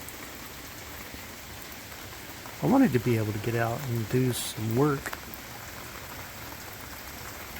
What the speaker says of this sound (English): It is a rainy day out.